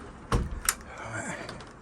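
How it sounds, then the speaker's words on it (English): An old sliding door with a repaired nightlatch is pushed back, giving two close, sharp knocks a moment apart, followed by a soft scraping rumble. "Let's push the door back."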